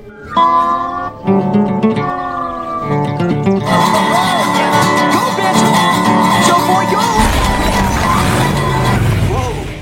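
A car pulls up over background music and a guitar, engine and tyre noise building from mid-clip onward and holding steady close by until the end.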